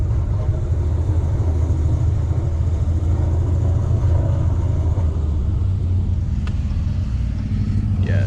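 A Dodge Challenger ScatPack fitted with long tube headers rumbles in a deep, steady drone, loud and close throughout, as the car rolls along beside a wall with no throttle or brakes.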